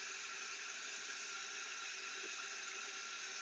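Running water from a pipe leak, picked up through an AT-407N acoustic leak detector as a steady, even hiss that holds at a constant faint level throughout, with no voices.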